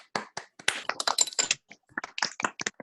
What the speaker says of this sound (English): Okay, now we can applaud.